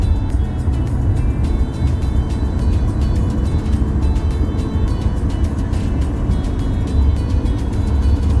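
Steady road and engine noise from inside a car driving through downtown Dubai, with a continuous loud rumble and tyre hiss and no clear breaks or passing events.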